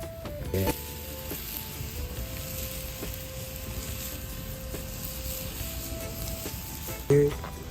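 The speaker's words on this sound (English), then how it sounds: "make them people hear it sizzling right now" A steady hiss of fish sizzling as it roasts over heat outdoors in a forest fills the whole stretch, with a few brief knocks and clatters near the start and end.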